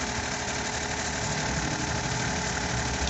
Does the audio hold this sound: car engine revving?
yes